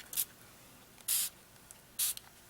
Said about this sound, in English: I'm just giving it a light spray with water